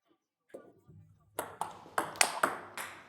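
A sequence of six sharp table tennis ball hits with a brushing, high-friction quality on backspin loops, fairly evenly spaced, after a soft thump and low rumble at the start.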